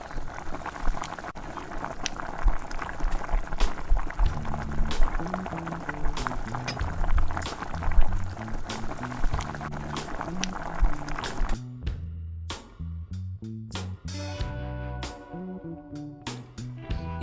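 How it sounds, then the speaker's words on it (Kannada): Karavali buns deep-fry in hot oil with a steady crackling sizzle for most of the time, then the sizzle thins out and gives way to clinks and a sparse background music tone. "ಇದು ತಿಳಿ ಕಂದು ಬಣ್ಣ ಬರುವವರೆಗೆ ಕರಿದುಕೊಳ್ಳಬೇಕು"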